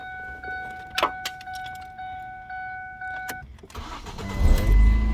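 A 2007 Ford Focus: warning chimes and key clicks inside the car, then the starter cranks and the engine catches, settling into a close, steady idle.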